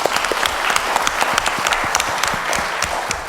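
An audience at a patient and caregiver panel on living with neuroendocrine cancer breaks into applause, with close, distinct individual claps standing out over a busy crowd clatter.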